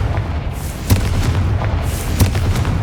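Two Confringo explosive spell blasts go off in Hogwarts Legacy, each a loud, booming burst about a second apart over dense, rumbling battle noise.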